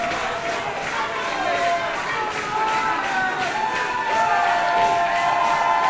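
A fired-up wrestling crowd cheers and shouts to urge James Roth back to his feet during a WPW title match, a dense, sustained roar with rising whistles and yells, a commentator's voice heard over it.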